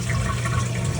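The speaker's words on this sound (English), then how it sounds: "Give it a flush and check the flange." A toilet with a small tank leak is flushed, loud rushing water filling the whole second close by, with no voices.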